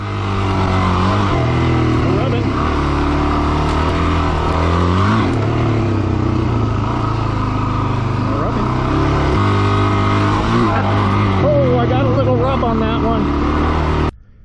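A Suzuki DRZ 400S dual-sport motorcycle fitted with lowering links is ridden, its single-cylinder engine droning loud and steady with rises and dips in pitch as the throttle changes, continuous until it cuts off abruptly at the very end.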